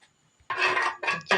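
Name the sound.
stirring salted water in a pot for lemon pickle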